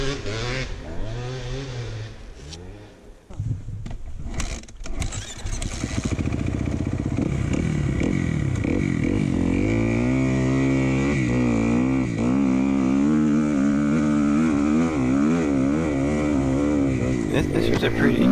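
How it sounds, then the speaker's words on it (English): A white Husqvarna dirt bike roars up a big hill climb, its engine revving hard and rising and falling in pitch, loud and continuous, with a person talking over it. "We got Steve on the white husky ripping up the hill."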